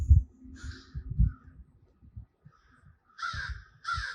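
Crows caw in harsh, rasping calls near a campground, a few loud caws, some coming in pairs, over quieter low rustling and handling noises close by.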